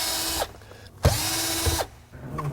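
A cordless drill with a screwdriver attachment whirs in three close, loud bursts while removing car interior fasteners, with short pauses and faint clicks between runs.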